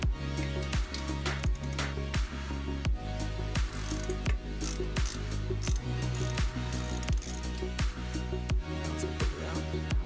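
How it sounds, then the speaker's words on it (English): A hand ratchet loosens the exhaust header flange bolts on a 2025 Honda Grom, making a fast run of sharp, evenly spaced clicks, close and fairly quiet, repeating without pause. "I'm going to leave that in place so it doesn't just drop out when I loosen the rest of the bolts."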